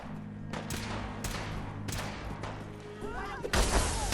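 Gunfire in Fallout 4, a handful of sharp separate shots spaced about a second apart over a low ambient hum, ending in a heavier burst with a louder crash at the close.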